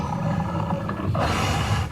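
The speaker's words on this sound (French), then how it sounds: "Un grognement retentit, lointain, puis un autre, plus grave, plus proche." A deep, rough creature growl from an unseen beast that is not a wolf rumbles close and loud, swelling into a harsher roar partway through its two seconds, with no talk over it.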